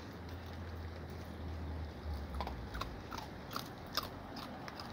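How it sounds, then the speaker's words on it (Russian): Soft, close crunching of an animal chewing food, a few crisp bites standing out against a quiet, steady background. "Ой, как я вкусненько хрумкала."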